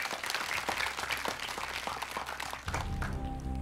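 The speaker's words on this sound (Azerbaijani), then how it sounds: "Alqışlayırıq sizi." A studio audience on the Azerbaijani school quiz show Əlaçı applauds a contestant in a steady burst of clapping that ends abruptly as a musical sting takes over.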